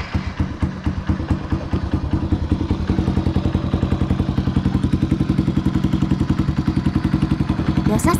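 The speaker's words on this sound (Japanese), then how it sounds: "エンジンをかけて、オイルが漏れないか確認します。" A Honda Super Cub motorcycle engine idles steadily nearby after an oil change, its rapid, even pulsing thump running throughout with a slight clatter, no talking over it.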